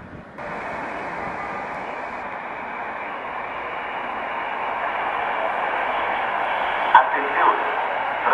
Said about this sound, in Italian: Attenzione, treno in transito al binario 10